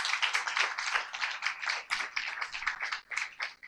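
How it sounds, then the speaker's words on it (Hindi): A congregation at a church service claps in a lively burst of close, quick, uneven hand claps that carry on steadily for a few seconds with no talk. "तालियां बजाएं परमेश्वर के लिए।"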